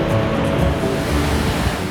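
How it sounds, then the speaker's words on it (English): A roadside waterfall along the Mountain Waters Scenic Byway in North Carolina gives a steady, full rushing roar of falling water that holds an even level throughout, with no voices. "Roadside waterfalls gave us plenty of reasons to pull over and pause for a moment."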